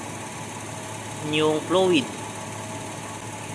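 A 2022 Toyota Fortuner engine idles during an automatic transmission fluid change, giving a steady low hum under a single spoken word.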